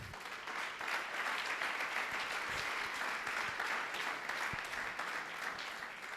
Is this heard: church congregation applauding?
yes